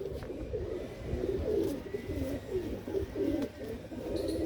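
Pigeons coo in soft repeated low calls, several birds overlapping nearby over a steady background hum, with no talking.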